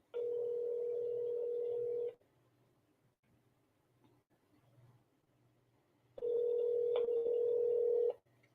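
Telephone tone on a call placed to a polygraph office: a steady electronic tone sounds for about two seconds, stops, then returns for another two seconds, with low hum in between.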